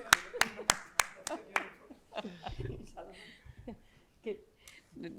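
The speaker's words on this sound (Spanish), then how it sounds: "Un aplauso a la audiencia también." A few sharp, isolated hand claps from an audience at an academic talk on gender and women, quickly giving way to speech and laughter in the room.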